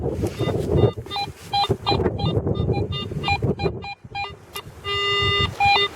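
A metal detector sweeps over a coin-filled patch of ground in mild November weather, chirping rapid repeated tonal beeps up close, with a longer steady tone near the end and wind buffeting the microphone.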